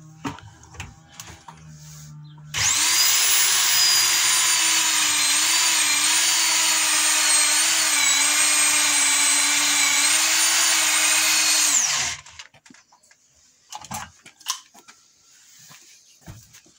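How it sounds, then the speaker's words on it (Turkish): A Hilti rotary hammer drill runs steadily for about nine seconds, a loud, continuous high-pitched whine with a droning motor tone, starting and stopping abruptly, followed by faint clatter and handling noises. "Basit bir hilti."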